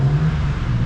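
The engine of a cold BMW M2 G87 revs with its exhaust valves open, producing a deep, loud, steady rumble with a strong low drone across a short burst.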